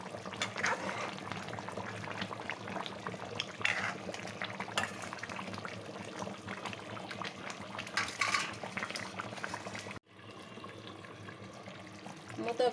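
Telugu fish curry (pulusu) bubbling in a pot makes a soft, continuous simmering burble with faint clinks of metal, and a brief clatter near the end as the lid shifts.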